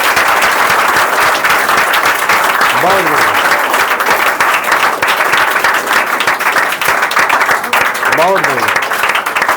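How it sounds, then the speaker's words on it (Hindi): An audience claps loudly and steadily, welcoming a student at a free-education event, dense applause throughout with a voice speaking over it briefly. "जरा जोरदार ताली स्वागत कीजिए इसका।"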